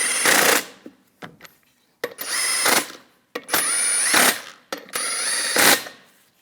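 Power tools snug down the lug nuts on a Chevrolet Colorado rear wheel in four loud, close bursts of impact whirring, each about a second long, with short pauses between them.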